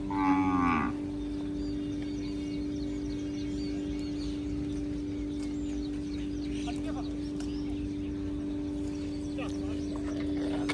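Kankrej cows back from grazing give one loud, close moo at the start, followed by a steady low hum, faint bird-like chirps and people talking in the background.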